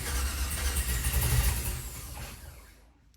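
A 1987 Chevrolet El Camino with an LS engine swap drives off, a low engine rumble that swells, then fades and drops away toward silence.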